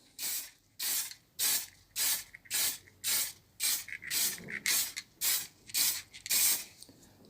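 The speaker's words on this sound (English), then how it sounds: "that's literally just a case of spraying some" A spray can releases sealant into routed-out letters on a wooden dog grooming plaque in about a dozen short, evenly spaced hissing bursts, each close and sharp with small gaps between.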